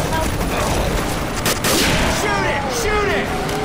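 Rapid gunfire in Left 4 Dead 2, a dense fusillade of overlapping shots with booming impacts and shouted voices over a chaotic zombie-fight soundscape.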